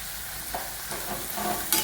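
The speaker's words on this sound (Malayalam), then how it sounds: "ഇത് എന്നിട്ട് ഒന്ന് മൂപ്പിച്ച് എടുക്കണം" Chickpeas fry with asafoetida in a pan, a close steady sizzle broken by a few soft stirring scrapes over a brief moment.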